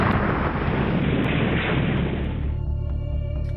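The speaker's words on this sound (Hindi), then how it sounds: "सुरक्षा बलों ने कार को दबोच लिया और उसे धमाके से उड़ा दिया" Controlled detonation of a car carrying a 40 kg IED: a loud, close, sustained roaring blast that fades into rumbling debris and scattered crackles after a few seconds.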